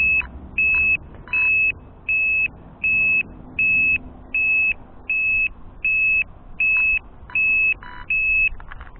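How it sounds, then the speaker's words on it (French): A LiPo battery alarm buzzer on a Hobao Hyper GT B 6S RC car beeps loudly in a regular rhythm, about a dozen even electronic beeps at short intervals over quiet background noise. "le lipo buzzer ça fonctionne bien, ça s'entend bien fort, ça marche sans souci."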